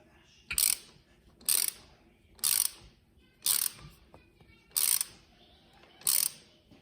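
12 mm ratchet wrench tightening bolts on a car, giving six evenly spaced bursts of rapid pawl clicking about once per second, close and crisp against a quiet background.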